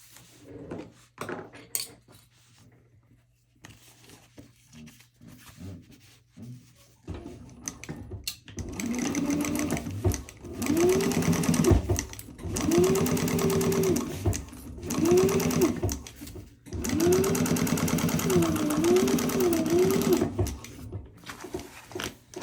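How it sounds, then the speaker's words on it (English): A sewing machine stitches three layered exterior pieces of a fabric purse along the top edge, running in several close bursts of a few seconds each with short pauses between them. "we're going to take it to the machine, and the pattern says to stitch along the top here"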